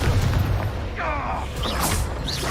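Explosive Confringo spell cast in Hogwarts Legacy, a loud booming burst with crackling and whooshing effects over steady game sound, heard alone without talk.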